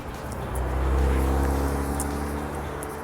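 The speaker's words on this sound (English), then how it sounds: "Sometimes the car can pass here, but they have to go slow, which is good." A car passes slowly along a road through Regent's Park in London, its low engine rumble swelling and then fading over about three seconds, with faint birdsong above.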